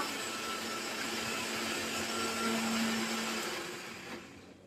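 Onion paste with black cumin, fenugreek, hibiscus flowers and leaves being ground by hand for a homemade hair pack, a steady continuous grinding rasp that holds evenly throughout and fades slightly at the end.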